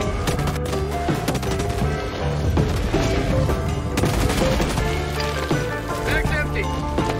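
Dense rapid gunfire from the Helldivers 2 video game rattles on without a break, layered over game music and effects while fighting an Impaler.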